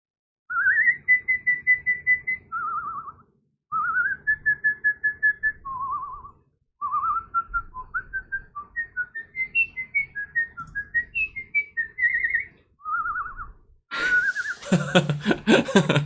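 A person whistles a melodic tune in several phrases, with sustained and wavering notes, fairly close and clear, ending with a burst of louder noise.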